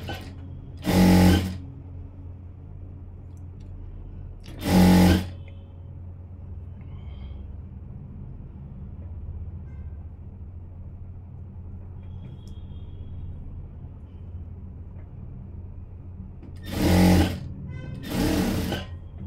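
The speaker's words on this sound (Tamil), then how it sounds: "இப்போ வந்து கை தைக்க ஆரம்பிச்சிடுவோம்" A sewing machine stitching a blouse sleeve runs in four short, loud bursts, two near the start and two near the end, separated by long stretches of quiet room hum.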